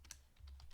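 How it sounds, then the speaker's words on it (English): Rapid keystrokes on a computer keyboard, a short quiet burst of several light clicks typed in quick succession. "It's good practice typing this all out just in case."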